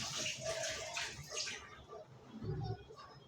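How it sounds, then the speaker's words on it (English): Hands are washed with soap under running water at a sink, a close, steady splashing stream that ebbs and swells, with faint voices in the background. "I always wash my hand every time with soap"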